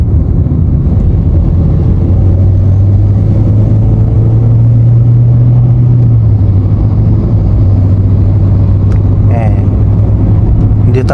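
A 2012 Suzuki Ertiga GL with manual transmission cruises at 40 in third gear, its engine a steady low hum with road and wind noise while someone talks over it.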